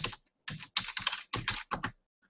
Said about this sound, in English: when I type watakushi in here, I'm typing something different from watashi here